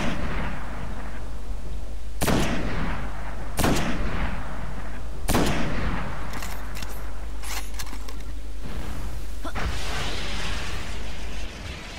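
Sniper rifle gunfire in the Destiny video game: several loud, sharp shots ring out a second or two apart, each with a ringing tail over a steady background drone, with no talk.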